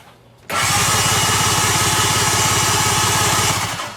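A Kawasaki ZXI 1100 engine cranks on its starter with the spark plugs removed, giving a loud, fast, even chugging whir that starts suddenly and runs steadily for about three seconds before easing off.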